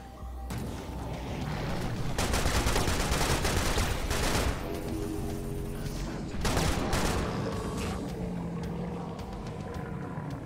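Two guns firing at once in the video game Serious Sam: Siberian Mayhem, loud continuous bursts of rapid gunfire with booming low end and engine-like roar, sustained over several seconds with brief lulls.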